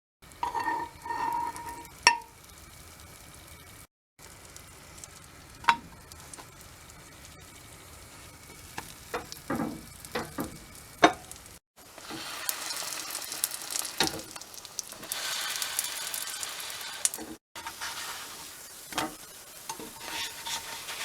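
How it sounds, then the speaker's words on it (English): A bagel toasts in a hot pan on a stove inside an RV, giving a steady sizzle broken by scraping and stirring clatter, with brief pauses in between. "this is how I deal with toasting my bagel"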